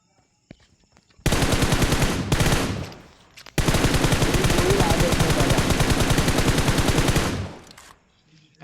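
Rapid automatic gunfire from a mobile shooter video game, loud and continuous in two long bursts separated by a brief pause, with faint voices between them.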